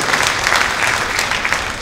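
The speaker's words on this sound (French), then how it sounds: "je souhaite qu'on puisse applaudir notre président du conseil départemental, Olivier Cagnon" At a mayor's 2024 New Year ceremony, an audience breaks into full, dense applause, many hands clapping together in a steady, close wash of sound with no voices over it.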